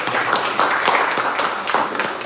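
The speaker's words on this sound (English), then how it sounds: "Go ahead and clap for" Audience applause at a talk featuring a state representative, a steady patter of many hands clapping for about two seconds with no voices on top.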